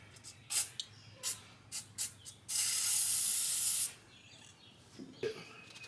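Liquid Wrench penetrating oil sprays from an aerosol can in one steady hiss lasting about a second and a half, between several short spray bursts, during work on a Dodge Ram pickup.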